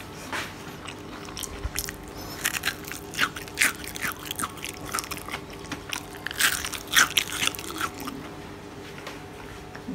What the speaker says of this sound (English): Want to hear the sound of the crunch?